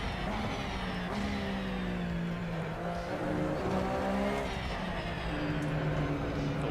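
Race car in the Assetto Corsa sim racing game on a qualifying lap, a continuous engine note rising and falling with gear changes, accompanied by tyre squeal, loud and steady throughout.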